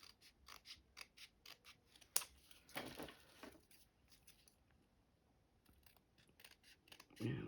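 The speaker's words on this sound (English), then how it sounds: "let's cut this down a little bit more" Scissors snip through paper while a bullet journal page is trimmed for decorating, giving a run of quick, crisp close cuts with a brief papery rustle between them, fairly quiet overall.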